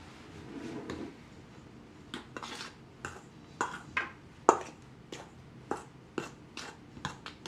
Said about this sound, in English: you're going to grab one of those spoons, and we're just going to lightly mix this up